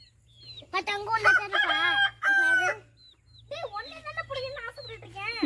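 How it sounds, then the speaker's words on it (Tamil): Chickens clucking and squawking in loud, close bursts with short pauses between, while people talk nearby. "எப்படா கோழி பிடிக்க ட்ரைனிங் எடுத்துக்கிட்டீங்க கல்கி"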